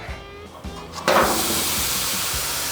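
A steady, loud hiss of brisket sizzling on a smoker at a competition barbecue rises abruptly and holds, with faint clanks and thumps underneath.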